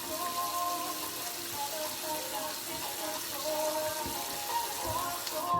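Water runs steadily from a sink tap while someone washes their face. The flow is a continuous, close splashing hiss with small bumps and drips mixed in.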